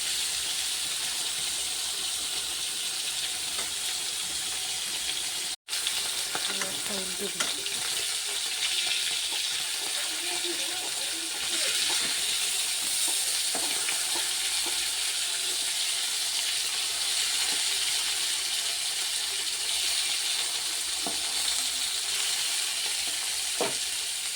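Steady, loud sizzling of fish frying in oil fills the whole stretch, with a brief dropout near the start and occasional soft clinks.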